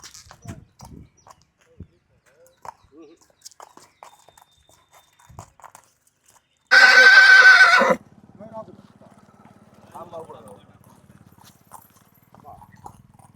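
A tall Royal Marwari horse gives one loud, close whinny lasting about a second, set among quiet stretches with faint hoof and handling noises and some brief talk.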